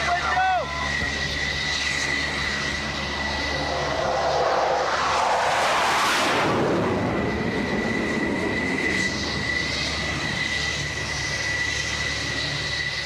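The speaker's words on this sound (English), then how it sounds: "The plane is waved off" An F-14 jet roars loudly on its approach to an aircraft carrier deck before being waved off, its engine noise swelling to a peak and then holding steady. Voices are heard under the jet noise.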